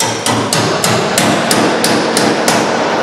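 Sharp metal hammer strikes ring out at a steady rhythm, about eight hits, as an edged tool is driven between spot-welded car panels to separate them, over a loud continuous grinding noise close by.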